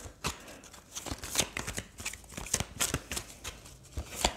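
A deck of oracle cards is shuffled by hand close up, giving a steady run of soft riffling and flicking bursts with no talk over it.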